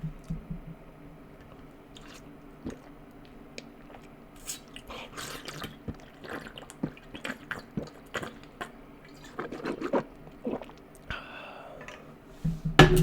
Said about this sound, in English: that's what it sounds like when I drink water